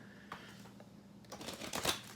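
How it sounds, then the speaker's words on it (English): Quick riffling and shuffling of a tarot deck close by, short bursts of papery flicks building to a louder flurry near the end. "let's quickly go ahead and just shuffle these cards"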